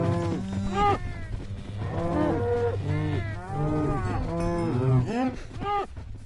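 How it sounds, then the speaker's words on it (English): Several Minecraft cows moo repeatedly, overlapping low drawn-out calls one after another, fairly close and clear against a steady low background hum. "So many cows."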